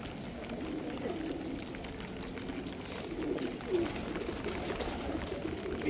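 Pigeons coo repeatedly in a wet outdoor loft during rain, with steady rain noise underneath and a few higher chirps, moderately near.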